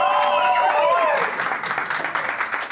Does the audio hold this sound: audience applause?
yes